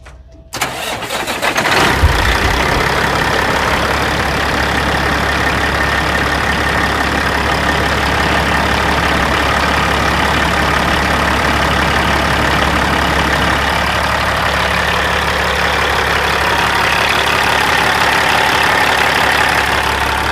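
A Peterbilt 379 truck's diesel engine cranks, catches after about two seconds, then settles into a loud, steady rumbling idle close by.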